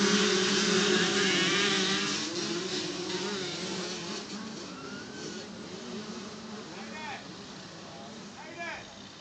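A pack of 65cc dirt bikes leaves the start line at a club championship motocross race, many small engines buzzing loudly together and then fading gradually into the distance as they race away, with faint voices underneath.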